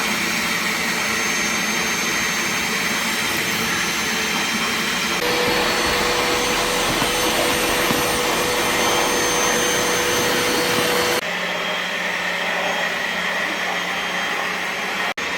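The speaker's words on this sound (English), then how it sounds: "I'm gonna go ahead and vacuum out the chassis as well" A vacuum cleaner runs loud and continuously inside the chassis of a high-mileage E46 M3 during an interior refit, its steady roar shifting in pitch as the nozzle moves and the load changes.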